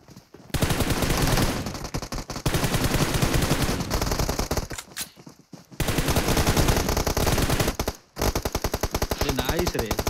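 Sustained rapid gunfire in the BGMI battle royale game, with a shotgun among the weapons, firing in long dense bursts with brief gaps, loud and continuous throughout.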